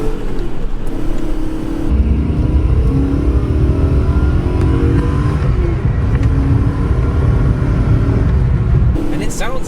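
The V8 engine of a 1995 BMW 540i E34 with stock exhaust revs hard in second gear and climbs in pitch as the car accelerates, loud and close, with a deep throaty roar and a brief lift-off near the end.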